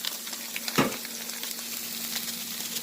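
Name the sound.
egg dropped into pan frying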